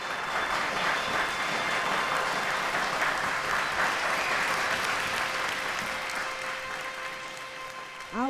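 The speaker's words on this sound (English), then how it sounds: "She was introduced to thunderous applause." A large crowd at a women's rights convention in Rochester, New York breaks into dense, continuous applause that holds steady and loud, then eases slightly toward the end.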